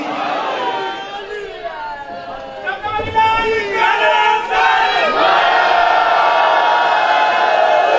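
A large crowd at a religious celebration roars back slogans in unison, loud and sustained, with voices chanting together close by and rising in intensity.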